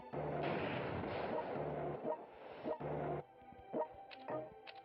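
Artillery barrages in the strategy game World Conqueror 3, a USA 1975 alien conquest scenario: repeated heavy booming blasts in dense overlapping bursts, loud and rumbling, then a few sharper isolated impacts.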